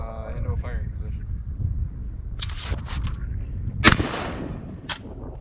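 Shotgun blasts from a Remington 870 fitted with Magpul furniture, two sharp loud reports a little over a second apart, followed by a fainter third crack, outdoors over steady wind noise and low background rumble.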